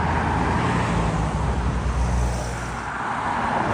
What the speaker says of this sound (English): First E-Type of the day